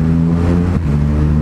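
A truck passes close on the road during a motorcycle ride, a loud, deep engine drone with a brief pitch drop as it goes by, over steady wind and bike noise.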